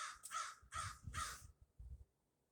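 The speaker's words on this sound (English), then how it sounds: "you might hear the crows, which is what he's trying to see" Three or four harsh caws from crows ring out in quick succession, fairly close and loud, followed by a softer low call and then quiet, with no talking.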